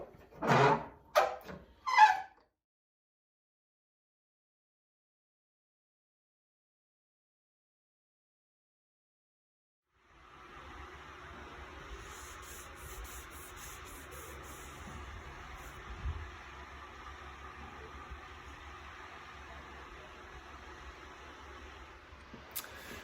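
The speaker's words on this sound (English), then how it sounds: "start hand sanding" Steady hand sanding of a crosscut micarta knife handle held in a clamp, a continuous abrasive rasping that runs alone after a few sharp knocks and a long silence.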